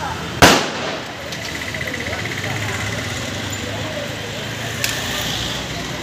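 Sharp firecracker burst during Deepavali, one loud bang followed by a second smaller pop, over continuous background noise with people talking nearby.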